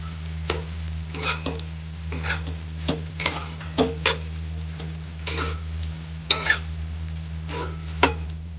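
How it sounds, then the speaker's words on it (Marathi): A spoon stirs an onion, potato and flattened-rice poha mixture in a pan, giving irregular light scrapes and taps over a steady low kitchen hum. "सर्व चांगलं मिक्स करून घेऊया।"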